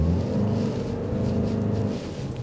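A 2024 Toyota RAV4 hybrid's engine hums as a low, steady rumble from inside the cabin during a test drive, constant and fairly quiet with no voices.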